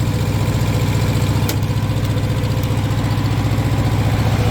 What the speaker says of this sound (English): it's a 2-cylinder engine, little 2-cylinder diesel engine